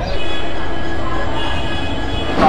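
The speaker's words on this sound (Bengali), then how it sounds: "এই যে দেখছেন পাশে ট্রেনটা দাঁড়িয়ে আছে" A stationary train hums steadily nearby at a railway platform, a continuous mechanical drone with faint hiss and no speech over it.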